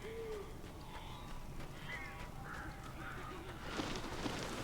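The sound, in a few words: birds calling in the video game Alan Wake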